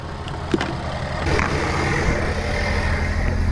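A car engine running unevenly just after a jump start from a dead battery, a steady low rumbling idle with a faint rise in level partway through, close and alone.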